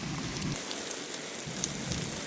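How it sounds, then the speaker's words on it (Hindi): Heavy rain falls in the mountains, a steady hiss of drops on surfaces with faint scattered patters and no one speaking. "ये देखिए बारिश आ रही है अच्छी खासी।"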